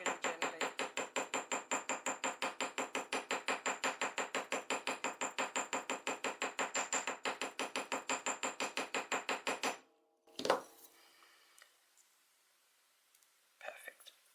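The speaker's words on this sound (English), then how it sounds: "just get my hammering block and hammer" Wire for a planet pendant struck with a hammer on a hammering block, about fifty rapid, even taps in a steady rhythm for ten seconds, close and bright, followed by a few handling knocks and quiet rustles.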